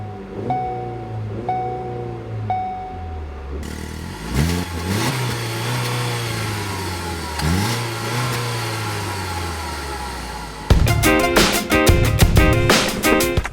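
Engine of a Ford Focus with a 2-liter engine rising in pitch through repeated accelerations on a road drive, steady mid-level car noise with no talk, ending in a louder rougher burst.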